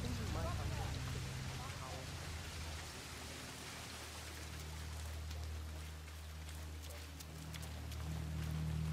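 Steady rain in the video game Hitman 3, a dense hiss of falling water and drops on surfaces with low ambient hum underneath, continuous and fairly even throughout.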